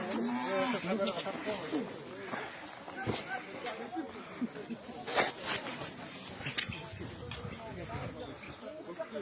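Cattle and other livestock are driven off from a village yard, with scattered lowing and moos, shuffling and movement, and people talking throughout at a fairly distant, muddled level.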